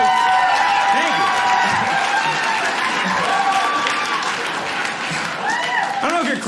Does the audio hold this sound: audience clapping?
yes